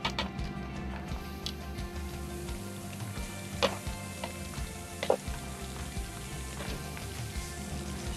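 Pork chops searing on a grill, a steady close sizzle and crackle with occasional louder pops, continuous throughout with no talking.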